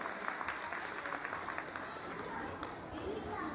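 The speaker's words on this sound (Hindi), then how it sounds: "तो एक बार जोरदार तालियों के साथ इन नन्हे बच्चों का स्वागत करें।" An audience applauds steadily to welcome young children at a school Grandparents Day celebration, a dense continuous patter of many hands with some crowd murmur and voices mixed in.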